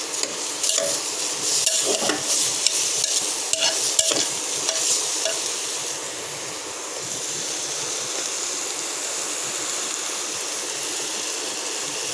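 Rice stirred and fried in a pot for khichuri, with a bright hiss and a run of scraping, clinking stir strokes over the first half, then a steadier, quieter sizzle.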